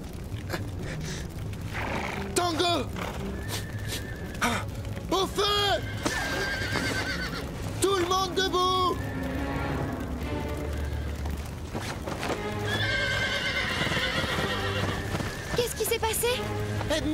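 Horses whinny loudly again and again amid heavy hoof clatter and a dense rumbling background, with some shouting mixed in.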